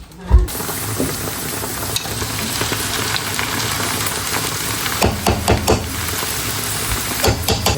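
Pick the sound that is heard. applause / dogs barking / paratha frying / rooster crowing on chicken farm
paratha frying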